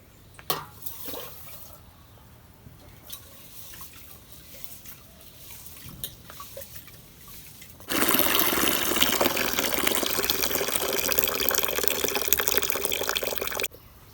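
Rice for khichuri being washed in water: scattered soft drips and small splashes at first, then a sudden loud, continuous rush of running water that lasts several seconds before stopping.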